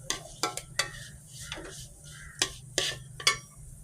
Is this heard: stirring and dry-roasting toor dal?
yes